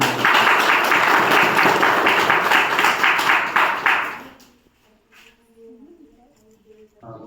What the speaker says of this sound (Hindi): ताली बजाओ खूब